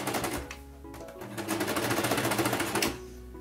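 A sewing machine runs steadily, lock-stitching fabric to make a balloon top, its rapid mechanical whir loud and close, with brief pauses and a short burst at the end; no one speaks.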